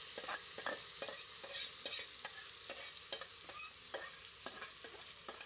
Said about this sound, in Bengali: এবার আমি ম্যারিনেট করা মাংসটা এর মধ্যে ঢেলে দিচ্ছি।